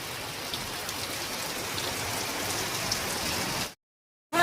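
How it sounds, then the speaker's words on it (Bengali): A heavy monsoon downpour roars as a dense, steady wash of rain hitting surfaces, loud and constant for several seconds before cutting out abruptly. "এখন এই যে বৃষ্টি পড়ছে, পুরো মুষলধারে নেমেছে,"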